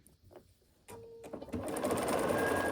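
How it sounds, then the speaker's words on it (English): A sewing machine stitches across the remaining seam of a quilt block, starting softly and then running steadily and close, growing louder as it goes. "And then sew across on the remaining seam."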